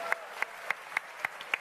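A few sparse, evenly spaced claps, quiet and rhythmic, at an Elite Dangerous Frontier Expo stage presentation, rather than full crowd applause.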